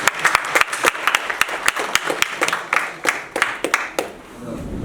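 An audience claps at a live event as a guest is introduced, a dense burst of hand claps that thins into scattered individual claps and fades out near the end.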